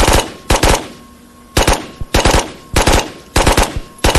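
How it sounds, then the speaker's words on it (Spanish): Loud bursts of automatic machine gun fire in the Ghost of Tabor video game, about seven rapid clusters of shots spaced irregularly with quieter gaps between them. "Alguien está disparando mucho"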